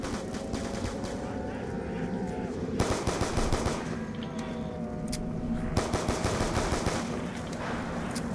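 M14 rifle fire in Black Ops 2 Zombies, rapid repeated loud shots in bursts over game music and ambience, with a voice talking intermittently.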